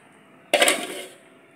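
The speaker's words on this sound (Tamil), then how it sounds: "மூடி வச்சிடலாம்." A metal lid lands on a cooking pot of hotel-style sambar with one sharp clink and a short ringing fade, set against a quiet background.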